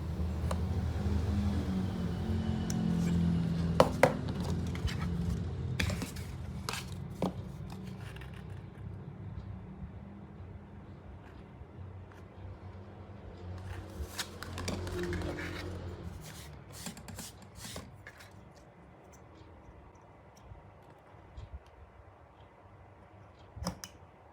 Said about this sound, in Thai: ทำการ ตัดใหม่อีกครั้งนะครับ เล็มให้มัน เท่ากันจริง ๆ